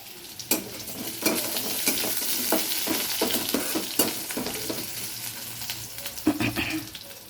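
Potatoes fry in oil with dried chili and whole cumin, a continuous close sizzle broken by repeated stirring scrapes and clacks.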